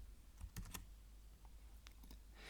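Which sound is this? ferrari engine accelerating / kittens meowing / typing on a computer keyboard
typing on a computer keyboard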